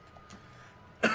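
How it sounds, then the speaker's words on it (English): A single person's cough bursts out loudly near the end of a short, otherwise quiet stretch, close and harsh, briefly sounding like throat clearing. "Sorry for coughing. I'm a little sick."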